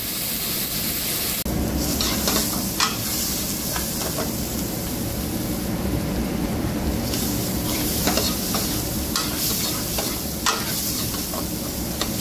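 Onion sautéing in a pan with a splash of water, a steady close sizzle with scraping and stirring clatters running throughout, no voices.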